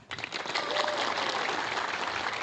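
Brief burst of audience applause at a stand-up comedy show in Indonesia, clapping swelling quickly and holding steady and loud for a couple of seconds with no talk.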